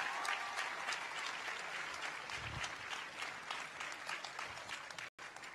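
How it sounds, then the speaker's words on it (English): Audience applause at the opening event for LeBron James's I Promise School, a dense, steady clapping from a crowd that holds throughout and drops out briefly near the end. "please give a round of applause to those guys"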